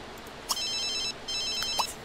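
A phone ringtone in The Sims 3, two short bursts of bright, rapid trilling electronic ringing separated by a brief pause, each starting with a small click, close and clear.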